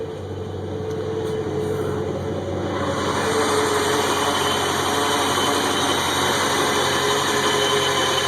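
A 2003 Malibu Response wakeboard boat with 475 hours on it idles steadily after starting, a close, even engine rumble with a constant vibrating drone that swells slightly partway through, no voices.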